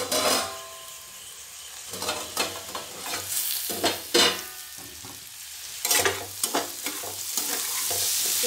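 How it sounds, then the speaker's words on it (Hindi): Raw papaya bhujia being stirred in a frying pan: repeated scraping strokes of a spatula over a low sizzle, coming in uneven bursts up close with brief pauses between them. "एक बार इसको फिर से अच्छे से हम चला लेंगे।"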